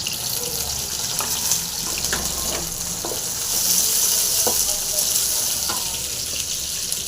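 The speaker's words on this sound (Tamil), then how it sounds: "சாம்பார் வெங்காயம் போட்டுடலாம் போட்டு நல்லா ஃப்ரை பண்ணிக்கலாம் வந்து பச்சை மிளகா போட்டுடலாம்" Shallots and green chilies frying in hot oil, a dense hiss and crackle held steady throughout with occasional sharper pops.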